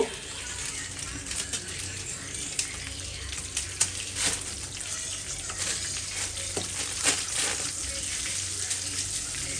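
Black cumin and bay leaves sizzling in hot oil as tempering for a potol chingri dish, a constant crackling fry with occasional sharper pops and splutters, heard close throughout.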